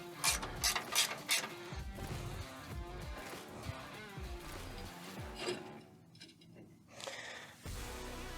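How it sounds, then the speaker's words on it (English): Ratchet wrench backing bolts off the suspension of a first-generation Ford Raptor, quick bursts of clicking pawl ratcheting up close, a pause, then more ratcheting, with no voice. "Now we can finish taking these off."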